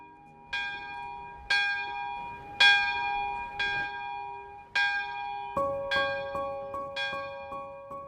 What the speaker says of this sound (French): La cloche, elle viendra rythmer et puis marquer les temps forts du château.